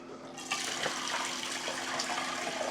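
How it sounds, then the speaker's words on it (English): Rinse water drains quickly out of a Ninja Professional SLUSHi slushie machine in a loud, continuous rushing gush that begins abruptly and keeps pouring without a break. "we're gonna empty out the water again."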